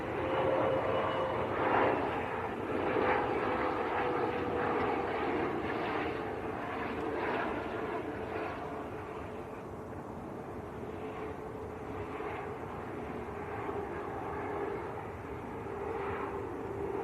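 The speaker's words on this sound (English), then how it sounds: "this is another VistaJet, Mitsubishi Challenger 850" VistaJet Mitsubishi Challenger 850 business jet arriving at Manchester Airport, a steady broad jet roar with a faint tonal whine, heard from a distance and holding constant throughout with no talking.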